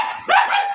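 A dog at a home pet-grooming session in Pangasinan gives a single close, sharp bark with a short whine, lasting under a second, and no talk over it.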